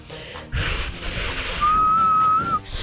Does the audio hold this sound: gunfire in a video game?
no